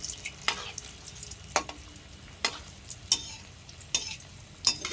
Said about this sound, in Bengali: 4টে দিয়ে এটাকে এরকম করে নাড়তে হবে, কেননা এটাকে তো সেদ্ধ করতে হবে